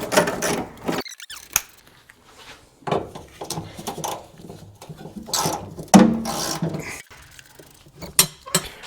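Metallic clicks, taps and ratcheting scrapes from work on a nut on an old Scout come in short, irregular bursts at close range between quiet gaps.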